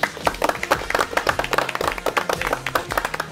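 A studio audience at a televised quiz show final gives a short round of applause, with distinct hand claps in a busy, uneven patter at moderate volume.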